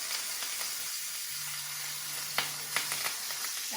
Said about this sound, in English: basting the steak in the melted butter that's getting seasoned a little bit with this garlic